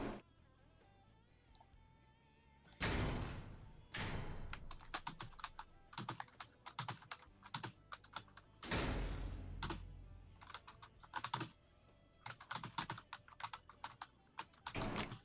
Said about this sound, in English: What you typing up there?